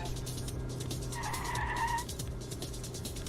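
Tires skidding through a drift in the video game NanoQuest, a brief squealing slide in the middle of a steady game soundscape with a constant background hum.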